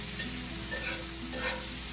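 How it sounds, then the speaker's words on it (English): Green beans stirred in a cooking pot for chicken and dumplings, a steady low sizzle and scraping stir running continuously at moderate level, with no talk. "Give our green beans a stir."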